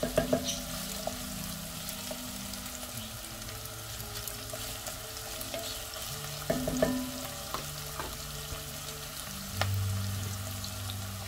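Chopped onion and green apples fry in a pot for butternut squash soup, a steady close sizzle with occasional stirring scrapes and clinks.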